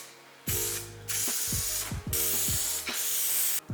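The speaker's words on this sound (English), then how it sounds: "we spray the adhesive on. Now this is a contact adhesive" Contact adhesive sprayed onto carpet and a plywood panel in bursts, loud hissing blasts separated by short gaps, each start and stop marked by a clicking trigger mechanism.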